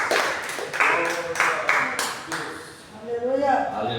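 A church congregation claps in a steady rhythmic beat of a few strong, evenly spaced claps, then fades as a voice speaks over the hall.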